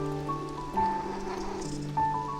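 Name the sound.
cat sound in video game Beyond Eyes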